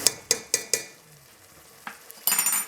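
Four sharp metal spoon scrapes against a pan while stirring turmeric, chili powder and salt into spices, a pause with faint sizzle, then a brief louder burst of scraping and frying; no talk.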